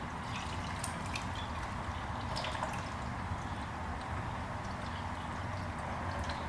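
Distilled water pours and spills into a 2007 GSX-R motorcycle radiator, a steady close liquid trickle and splash running continuously without speech.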